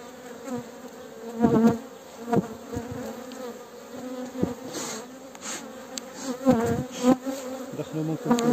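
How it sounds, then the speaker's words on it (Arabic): Honeybees buzz around an opened hive being fitted with its first honey super, the colony agitated and aggressive; a dense, steady drone with louder swells as bees pass close to the microphone. "النحل أصبح جد شرس"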